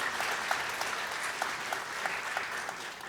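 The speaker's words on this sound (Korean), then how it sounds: "주윤아님께 다시 한번 큰 박수 부탁드립니다" A seated audience claps warmly at a Thursday lecture event, a steady wash of many hands at a moderate, slightly distant level that carries on evenly without speech.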